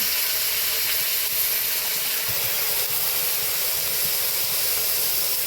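Fresh leafy greens hit hot frying oil in a Bengali vegetarian dish, giving a loud, steady sizzling hiss that fills the moment without pause.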